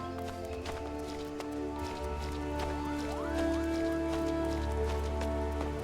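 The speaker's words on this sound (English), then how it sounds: "And now it's pouring rain." Pouring rain in the Final Fantasy XIV game world makes a soft, steady hiss beneath sustained game music, fairly quiet throughout.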